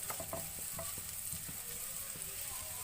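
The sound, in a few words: garlic ginger paste frying in a pan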